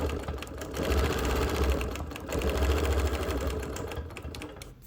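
A sewing machine quilting a continuous curve around a square block of a Nearly Insane sampler quilt, giving a steady, fast, close mechanical hum with rapid needle chatter throughout, alone without talk.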